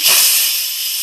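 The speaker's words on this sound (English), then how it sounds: "it's going to let out a lot of hot steam" An Instant Pot releases built-up steam pressure through its valve in one loud, steady, close hiss that tapers off slightly over about a second.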